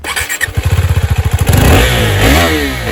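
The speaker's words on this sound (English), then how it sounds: "And then there is this sweet side-hung single barrel exhaust." A KTM 390 Adventure single-cylinder motorcycle with a side-hung single-barrel exhaust starts with a rapid, pulsing thump, then revs up into a loud, close roar and settles back, with no voices.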